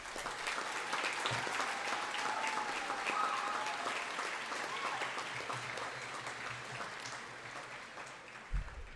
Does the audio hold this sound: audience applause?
yes